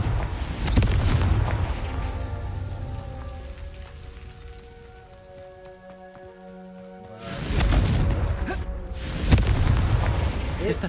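Confringo explosion spells boom heavily in Hogwarts Legacy, with a dense blast at the start and another after a quieter stretch that carries soft tonal music.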